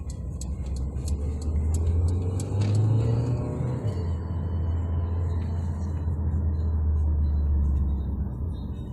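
A 2022 Mercedes-Benz GLA 200 AMG Line on the road gives a steady low engine drone with a slight swell as it pulls, heard from inside the cabin, with faint higher clicks early on and no talking.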